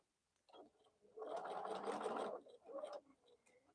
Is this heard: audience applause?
no